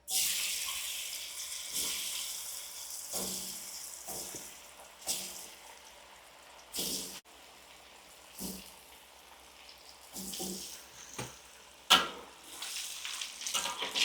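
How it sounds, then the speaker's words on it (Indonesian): Cassava tela-tela fries in a pan of hot oil, a steady hiss of sizzling with bursts of crackle and spatter that swell and fade over several seconds. "Nih, minyaknya sudah panas, lanjut goreng."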